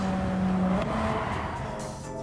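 A race car revs and drives around the Alsace Test Course in reverse in a racing video game, its engine droning loud and close with shifting pitch and a brief squeal of tires.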